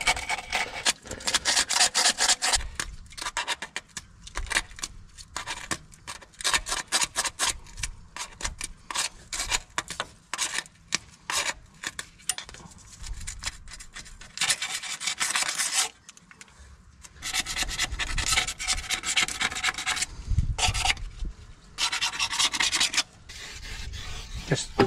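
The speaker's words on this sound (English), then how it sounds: "Let's take off this old gasket." An old water pump gasket is scraped off the metal in repeated harsh, rasping strokes, in close bursts with brief pauses between runs.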